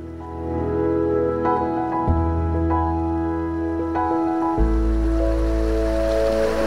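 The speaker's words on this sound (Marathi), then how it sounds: "मोठा वहाळ वाहत आहे, म्हणजे सड्यावरील पाणी खालच्या दिशेने जात आहे" A large stream in a Konkan village runs downhill off a laterite plateau, making a steady, loud rushing wash of water that fills the whole stretch with no voices.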